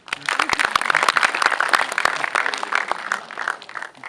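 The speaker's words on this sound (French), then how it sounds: "Oui, on peut l'applaudir." An audience claps at a season presentation for a local sports club, a dense burst of applause that is close and loud, holds steady and then fades near the end.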